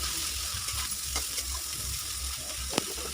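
Shepu (dill) greens fry in a hot pan with a steady close sizzle, broken by a few faint clinks and scrapes of stirring.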